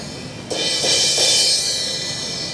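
A single hit on a 17-inch Zildjian crash cymbal with a larger, higher bell blooms into a full, bright wash with some body underneath, followed by light taps as the ring sustains and gradually fades.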